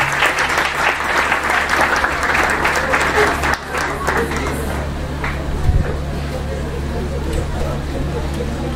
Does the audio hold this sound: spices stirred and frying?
no